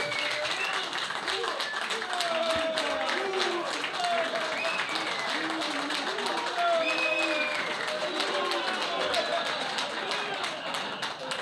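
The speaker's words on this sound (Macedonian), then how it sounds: "Еден аплауз за нив" A crowd applauds veteran football legends at a gathering of Teteks and Ljuboten club veterans in Tetovo, a dense steady clapping that holds for the whole stretch, with voices mixed in.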